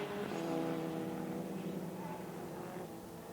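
A Peugeot RCZ race car in the Silverstone 24-hour race, its engine a steady mid-distance drone that fades slightly as it passes, with no talk over it.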